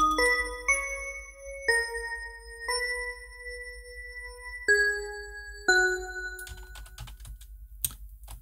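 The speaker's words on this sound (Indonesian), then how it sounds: "Kemudian ada bel." A bell layer played in music production software rings out as a short melody of clear, sustained chime notes, each struck and slowly decaying, followed by a brief patter of light clicks near the end.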